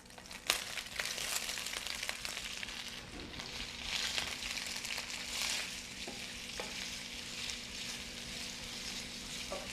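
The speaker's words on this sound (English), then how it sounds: "I'm going to add my onions to saute till they're lightly brown" Onions sautéing in a pan until lightly browned, giving a steady, quiet, crackling sizzle with occasional soft stirring and clinking sounds.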